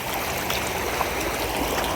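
Rainwater rushes along a half-full canal after heavy rain, a dense, continuous roar of flowing water heard close and loud without pause or voices.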